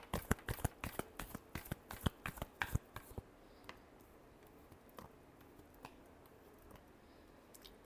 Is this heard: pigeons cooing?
no